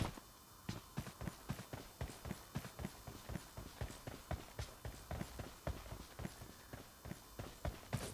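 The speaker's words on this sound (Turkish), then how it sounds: "İşte bak adamın ayak sesini duyuyorum ama adam ortalıktan kayboluyor." Enemy footsteps in the mobile game PUBG Mobile Lite, a rapid run of evenly spaced, crisp steps that continues for several seconds, fairly quiet and alone with no talk over it.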